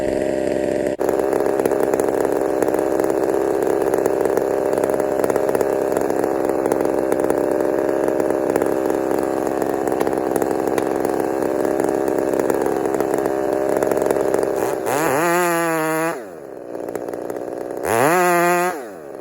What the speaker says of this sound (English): listen to the saw and listen for wedges